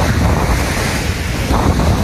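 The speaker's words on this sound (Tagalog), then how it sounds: "Sobrang lakas ng hangin." Strong wind buffets the microphone in a steady roar, with crashing surf beneath it, loud and continuous throughout.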